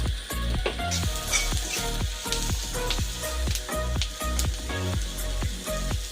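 Rohu fish pieces fry in a pan with turmeric, stirred with regular scraping strokes about twice a second over a steady close sizzle, with no talk.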